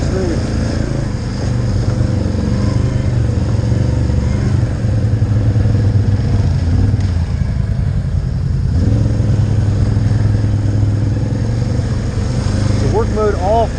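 A Can-Am Outlander ATV engine with electronic throttle runs close by in a steady, loud drone with slight rises in revs, while a person talks over it.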